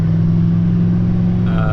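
Steady low engine drone of an old truck with a 466 engine cruising on an interstate near its roughly 60 mph top speed, loud and continuous, with road noise and no speech.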